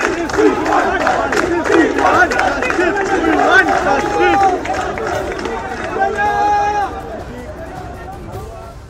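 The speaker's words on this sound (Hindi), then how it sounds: "स्टेडियम के बाहर भारी संख्या में इस वक्त भी भीड़ है। पुलिस इस भीड़ को तितर बितर करने की कोशिश कर रही है।" A large crowd outside a football stadium in Kolkata is being pushed back by police after a cancelled match. Dense shouting and running commotion stay loud and close throughout, with overlapping voices and occasional cries.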